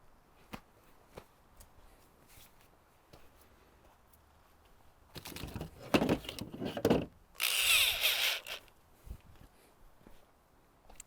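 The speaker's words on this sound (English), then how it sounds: "we're gonna go ahead and just drill all those holes" Quiet tapping and shuffling, then two bursts of a power drill whirring close by, each lasting a second or two, drilling holes in a Ford Transit van roof for a MaxxFan install.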